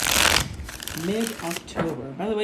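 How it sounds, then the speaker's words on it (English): Tarot cards riffled and shuffled up close for a Sagittarius reading, a dense papery rustle at the start followed by softer card handling beneath someone talking. "let me shuffle real quick"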